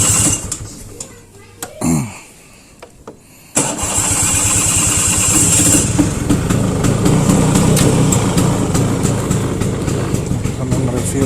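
A 2004 Vespa Excel 150 scooter engine cranks over and catches around the four-second mark, then settles into a steady, close, buzzing idle that runs to the end without a break.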